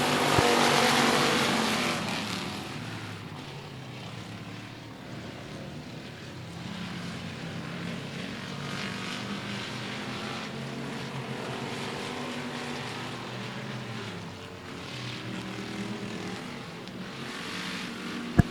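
Race cars lapping a dirt speedway oval at Cotton Bowl Speedway, a steady blended engine roar that swells near the start then holds as a continuous distant drone of several cars circling.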